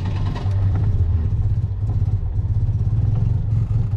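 A Citroën 2CV's small engine chugs steadily and close as the car pulls away, a low, even drone with light mechanical clatter and no talking.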